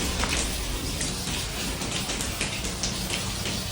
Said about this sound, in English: It's raining in the kitchen.